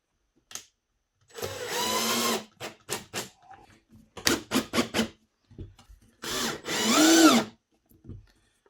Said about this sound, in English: I didn't quite get this cut perfect, so I sanded it down.